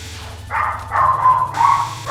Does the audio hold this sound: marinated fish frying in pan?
no